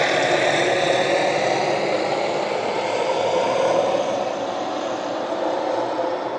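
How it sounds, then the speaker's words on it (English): A helicopter flying overhead sends out a steady, broad engine and rotor roar that stays loud and constant throughout, with no talking. "Helicopter"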